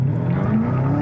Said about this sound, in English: I can't believe I'm getting to drive a 1938 stock car.